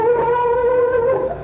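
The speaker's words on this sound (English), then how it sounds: "So if I use 2 pickups together, it'll make a sound like this." A sustained electric guitar note played using two pickups together rings out steadily with a warm, full tone and slight wavering, played alone without any talking.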